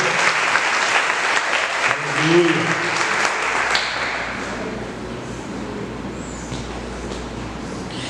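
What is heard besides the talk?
church congregation applauding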